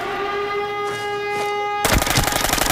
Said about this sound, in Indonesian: Nembak siapa itu di atas?